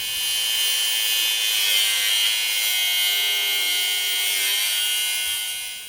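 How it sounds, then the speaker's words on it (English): An angle grinder cutting the heads off rusted screws on an old G20 van roof, a loud, steady high-pitched whine that holds for several seconds before easing off at the end. "grinding the heads off is the only way they're going down"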